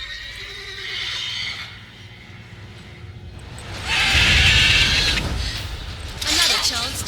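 A horse whinnies loudly over a steady background rumble in The Witcher 3: Wild Hunt, with a second shrill neigh near the end and voices speaking beneath.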